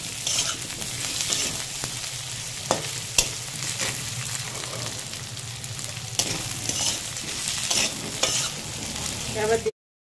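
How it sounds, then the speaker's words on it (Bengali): Potatoes fry in a pan with a steady close sizzle, punctuated by sharp stirring scrapes and clinks, until the sound stops suddenly. "কিছুক্ষণ আলুটা ভেজে নেব"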